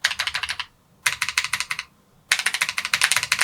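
Keys tapped on a restored BBC Model B computer keyboard in three quick close bursts of crisp, rapid clicks, separated by short silent gaps.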